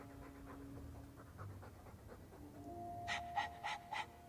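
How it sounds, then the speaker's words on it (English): A dog in the video game Dragon Age II pants in short, rapid breaths. The panting starts quiet and gets louder toward the end, with a few faint game tones beneath it and no voices. "All that noisy dog breath, day in, day out."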